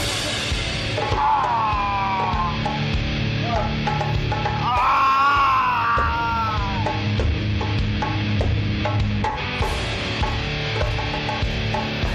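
A man screams in a TV drama scene, with long, wavering yells rising over a dense, noisy background for several seconds.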